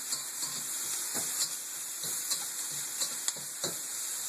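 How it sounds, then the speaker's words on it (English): Broccoli and eggs sizzling in a pan, a quiet continuous hiss with periodic soft scraping stirs at a steady pace, fairly distant and without talk. "Meanwhile, I got my broccoli and my eggs stirring over here."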